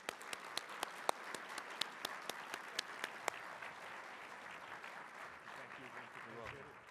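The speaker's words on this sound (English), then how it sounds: "for he and the CJI staff, another big round of applause" Applause rises at a judicial excellence gala dinner, with a few loud, distinct claps at first that settle into a faint, softer spread of clapping from the room as the sound trails off.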